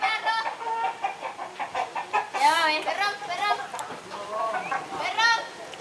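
Hens clucking in short, excited bursts, fairly close, with people talking over the birds throughout.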